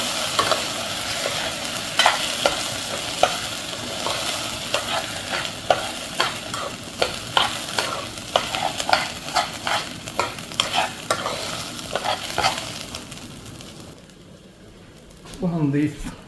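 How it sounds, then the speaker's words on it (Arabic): Washed basmati rice being stirred in a hot pot, a cup's worth turned over with a spoon: repeated scraping, sizzling stirs in an irregular rhythm, close and clear, fading near the end before a short burst of other sound. "دول معانا كوباية رز مغسولة كويس، رز بسمتي. نديهم تقليبة حلوة."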